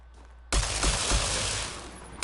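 A Tesla gun in Mass Effect Andromeda fires one continuous, loud, crackling electric burst that lasts nearly two seconds and cuts off sharply.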